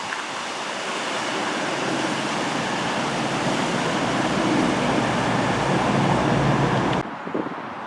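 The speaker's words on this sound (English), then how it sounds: "Got a couple of trains passing." Trains rush past nearby with a loud, steady roaring rumble that drops off abruptly near the end.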